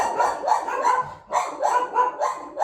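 A dog barks in bursts at a passing dog walker on the street, about five loud, close barks in a steady rhythm with brief pauses between them.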